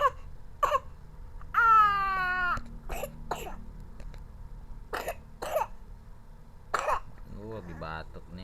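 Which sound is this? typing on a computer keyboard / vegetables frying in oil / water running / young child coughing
young child coughing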